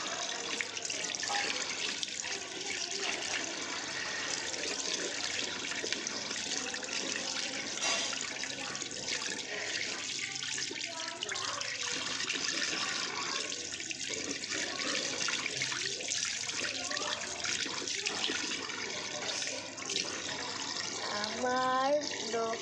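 Tap water runs steadily while freshly painted nails are rinsed under it, a continuous broadband splashing that stays even and fairly close throughout, with faint indistinct speech mixed in.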